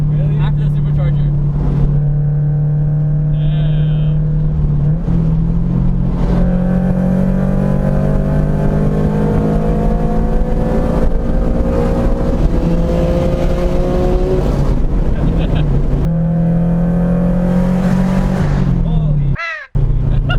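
A supercharged Subaru BRZ accelerates hard from inside the cabin, its engine holding a steady loud drone with rising pitch sweeps through the gears, while occupants exclaim over it and the sound cuts off abruptly at the end.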